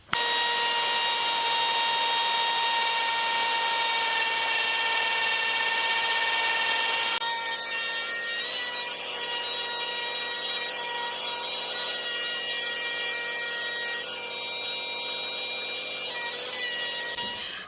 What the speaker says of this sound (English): I can route through into the waste wood.